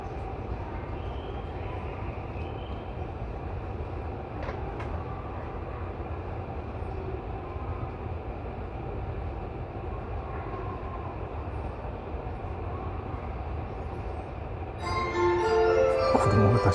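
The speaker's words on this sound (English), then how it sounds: "To all passengers, this train will depart soon." A Tokyo commuter train rolls steadily along the track with a continuous low rumble, and a brighter clatter rises near the end; no one speaks over it.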